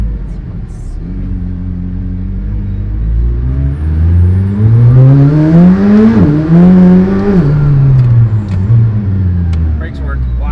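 A full-carbon McLaren Senna accelerating hard from inside the cabin, its engine roar climbing loudly in pitch through the gears with a brief dip at a shift before settling back down.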